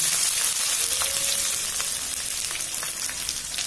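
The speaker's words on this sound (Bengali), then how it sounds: "আদাটা দিয়ে মশলাটা নাড়াচাড়া করে নিলাম" Ginger paste and spices fry loudly in hot oil with a dense, steady sizzle and occasional soft stirring scrapes, close and continuous.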